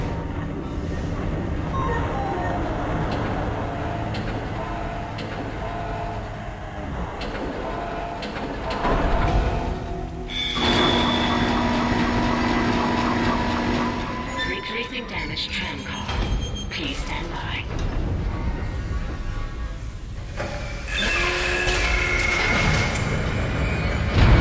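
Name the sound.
tram running on rails in Dead Space video game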